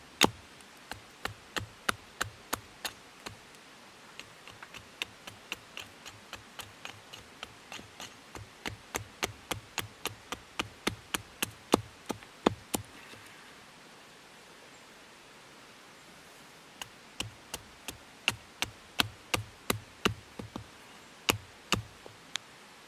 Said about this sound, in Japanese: ラインに沿って手斧で削っていきます。